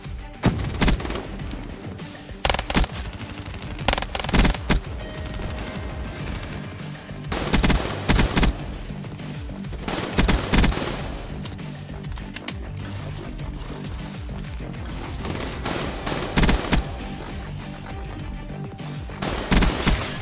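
Guns firing in Call of Duty, dense rapid bursts of automatic fire that repeat in clusters with short gaps, loud and close, with occasional mechanical clicks and faint excited talk.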